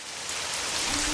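Steady rain soaks a farming community in Ghana's Northern Region early in the morning, a dense, even hiss of drops on surfaces filling the whole moment with no voices.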